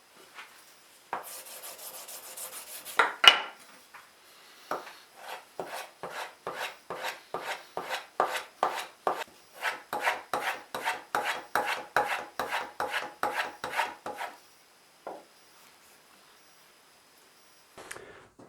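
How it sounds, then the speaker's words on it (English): A wood carving gouge stropped to sharpen its edge, heard as a short steady rasp followed by a long run of evenly paced back-and-forth rubbing strokes, close and fairly loud, with no voices. "I'll just give this gouge a quick strop just to get the edge a little bit"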